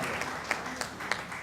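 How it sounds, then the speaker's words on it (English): Conference audience applauding a speaker, a brief, moderately loud burst of clapping from a hall crowd with a few sharper claps standing out. "A resounding round of applause."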